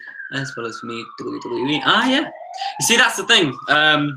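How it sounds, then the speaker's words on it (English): Police sirens wail outside, a rising and falling tone running faintly beneath close, continuous conversation. "I don't know if you can hear the sirens outside"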